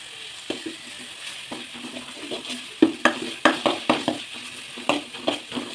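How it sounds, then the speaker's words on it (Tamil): Mint and coriander leaves with curry leaves, ginger and garlic sautéing in a pan for a traditional egg curry, with a steady low sizzle and repeated scraping and stirring strokes, close and clear, with no talking. "புதினா, கொத்தமல்லி தழை எடுத்து வச்சுக்கிறது போட்டு வதக்கணும்."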